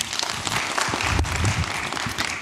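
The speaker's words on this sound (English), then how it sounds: "Let's clap for Felix" Attendees at an association's annual general meeting give Felix a round of applause, a dense, continuous wash of clapping from a roomful of people with some low thumps mixed in.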